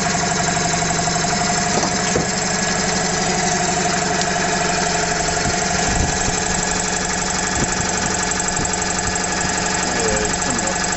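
A vintage Motivair compressor, apparently a refrigeration unit pump, runs steadily with a dense, constant mechanical drone and faint knocking as it slowly builds pressure, close and loud throughout.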